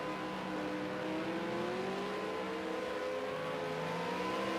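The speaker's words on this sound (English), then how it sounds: "Balaki's finding a spot to do a burnout" A V8 Supercar at Silverstone International holding a steady high-pitched engine drone with gradually shifting tone, like revving during a burnout, continuous and fairly distant.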